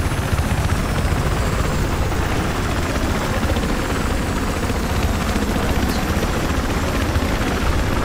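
The Venom helicopter in Battlefield 4 sends out a loud, steady rotor and engine roar that fills the whole stretch with no break.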